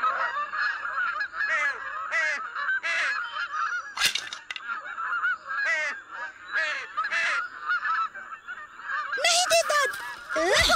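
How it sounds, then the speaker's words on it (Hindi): Goose-like bird honking in repeated loud calls, roughly one every second or so, close by against a quiet background, with a sharper burst near the end. "देखो पंछी।"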